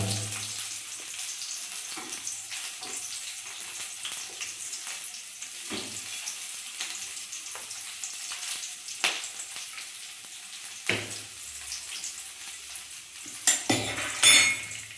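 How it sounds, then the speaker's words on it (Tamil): Steady sizzling of small onions sautéing in a pan, with occasional clinks and scrapes of a utensil stirring against the metal. "ஸோ நல்லா வதக்குங்க"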